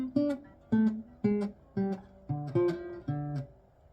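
Electric guitar playing a riff with bent strings: about eight sharp plucked notes in a steady, punchy rhythm, close and unaccompanied.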